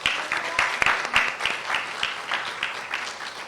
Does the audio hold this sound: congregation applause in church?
yes